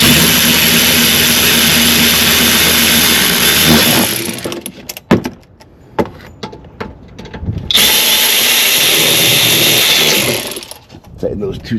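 A power tool tightens two 10mm bolts on a Dodge Grand Caravan alternator, whirring loudly up close in two bursts of a few seconds each, with clanks and rustling between them.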